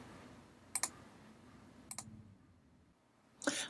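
A few computer mouse clicks, crisp and close, made while setting up a dissertation template: a quick double click, another pair a second later, then a final cluster at the end.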